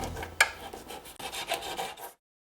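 Knife scraping and slicing along a largemouth bass during filleting, close and quiet, a short run of rasping strokes with one sharp tick near the start, then silence.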